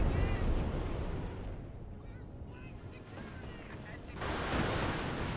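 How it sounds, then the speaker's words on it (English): Panzerwerfer rocket artillery barrage in a real-time strategy game tournament match: dense, continuous rumbling explosions and gunfire, swelling louder toward the end. "Panzerwerfer comes down on the MG and wipes it."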